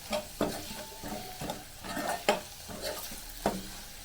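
Masala spices fry with pieces of raw banana for a spicy curry. A soft sizzle runs throughout under rhythmic stirring and scraping strokes roughly every half second, fairly quiet and close, with no voices.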